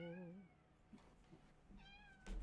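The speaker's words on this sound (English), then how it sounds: "Meow meow meow." A cat meowing close by, a few short rising meows at the start and again near the end, with quiet room noise between.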